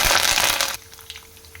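Dried red chillies and curry leaves dropped into hot oil with fried mustard seeds for tomato curry: a loud burst of crackling sizzle that cuts off abruptly, leaving a faint quiet tail with a few small pops.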